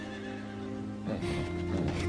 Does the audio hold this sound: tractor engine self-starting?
no